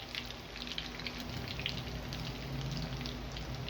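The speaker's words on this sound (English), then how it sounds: "I'm turning my pieces over as they're frying" Steady sizzling and crackling of wagyu kibbeh pieces frying in hot oil, close and continuous, with no voices.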